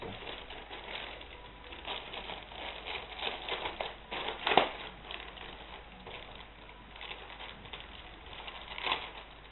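A parcel from China holding a thermometer is unwrapped by hand, with soft close rustling and crinkling of packaging and a few sharper crackles and taps, fairly quiet throughout.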